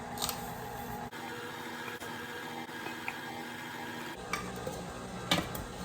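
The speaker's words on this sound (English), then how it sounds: "I'm going to scrape it periodically because some butter will get stuck to the bottom." A spatula scrapes creamed butter from the bottom of a mixing bowl, a steady close-up scraping and stirring noise with brief pauses and a few sharper knocks, with no voices.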